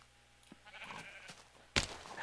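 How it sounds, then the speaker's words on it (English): A sheep's bleat in a video game sounds faintly over a soft ambient bed, with a sudden louder burst near the end. "Noisy sheep."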